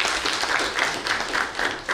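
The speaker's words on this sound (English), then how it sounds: "Big round of applause for" Steady applause from a crowd, a dense wash of many hands clapping at moderate volume throughout, with no voices standing out.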